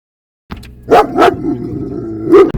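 Dogs barking nearby, three loud sharp barks in quick succession with some rumbling background noise between them, no talk over the barking.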